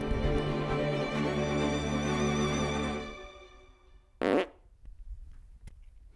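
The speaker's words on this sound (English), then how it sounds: "And there it is, the final fart." A long, loud, buzzy fart drones for about three seconds and then fades out. A brief rustling burst and a few small clicks follow in a quieter room.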